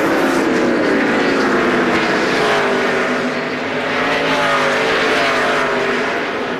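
NASCAR stock cars race through the final lap at Richmond, their engines a loud, continuous roar that swells and shifts in pitch as cars pass, with crowd and track noise mixed in.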